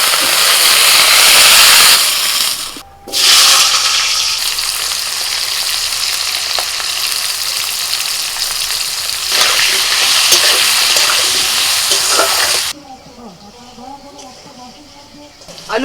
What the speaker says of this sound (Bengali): ব্রোকলিটা তেলের মধ্যে একটু নাড়াচাড়া করে নিয়েছি